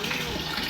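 Water running steadily from a household tap as it is caught in a container during a morning cleaning routine, a continuous close gushing rush.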